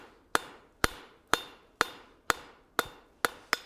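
Eight sharp hammer blows on hot steel farrier tong blanks ring out at a steady, unhurried pace, each strike clear and bright with a short metallic decay.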